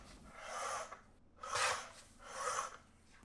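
Three rasping strokes of a blade or trimmer cutting along the edges of photographic prints being trimmed to fit behind a window mat, each stroke about a second long with short pauses between, close and fairly quiet.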